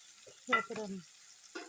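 Shallots, garlic and chili sautéing in hot oil give a brief, faint sizzle, with a few short, louder spatters over a steady background hiss.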